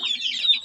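Young chickens cluck in a short, close burst of high, chirpy calls.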